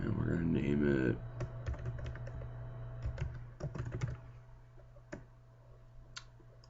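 Fingers type on a computer keyboard in quick bursts of close, crisp clicks with short pauses, after a brief voice at the start.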